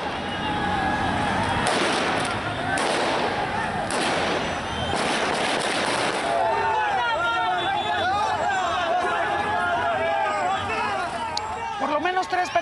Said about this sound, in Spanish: Por lo menos 3 personas murieron luego de que talibanes dispersaran la protesta a tiros